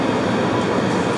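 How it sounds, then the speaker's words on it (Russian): Airport rail line running from Denver airport to Downtown Denver, with a loud steady rumble and hiss of the moving train carriage heard from inside, continuous with no voices. "Я уже в поезде."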